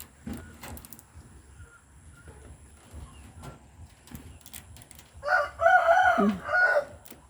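A rooster in a backyard chicken coop crows once, loud and close, near the end, after a stretch of quiet rustling and soft clatter.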